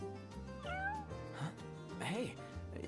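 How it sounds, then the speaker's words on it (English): A cat meows in Final Fantasy XV, a few rising and falling mews over soft in-game music and ambience, with a voice talking nearby. "Hey, you're the cat we saw in Galden."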